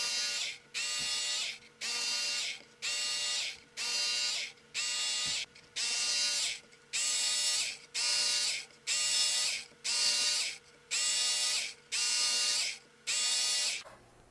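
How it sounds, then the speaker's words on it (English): A Work Sharp knife sharpener runs on its 220 grit belt as a knife is drawn across it, giving about a dozen even, rhythmic grinding passes with short pauses between, close and steady with no talking. "Now let's run it on the 220 belt."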